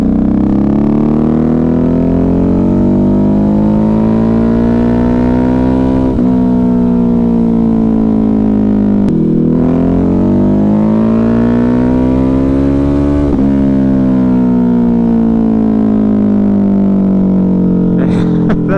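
A Ducati Hypermotard 950 RVE motorcycle engine revs loud and close, its steady throbbing drone rising and falling through several throttle blips with no talk over it.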